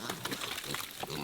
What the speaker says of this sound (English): Those pigs are pound for pound the strongest animal on our property.